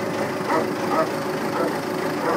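Belarus MTZ-82.1 tractor with about 400 engine hours running steadily just after starting, a continuous low diesel drone heard up close with no talk over it.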